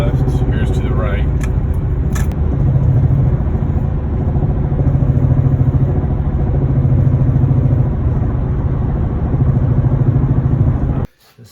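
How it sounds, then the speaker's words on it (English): Road noise from a Honda Accord with a worn CV axle while the steering wheel is turned, a steady loud low rumble and drone heard from inside the car, with a voice talking briefly at the start. "Try to notice the difference in the sound when I slightly pull the steering wheel to the left."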